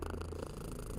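A cat purrs while being petted in the video game Kathy Rain 2: Soothsayer, a continuous close, low, rumbling purr with no talking.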